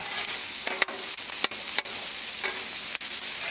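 Bacon and squash sizzle on a hot Blackstone griddle, a constant bright hiss broken by several sharp scraping clicks from a spatula stirring the food.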